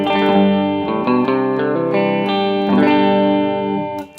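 An electric guitar on its middle pickup with no drive plays a clean, ringing phrase of single notes and chords, close and alone, fading out at the end.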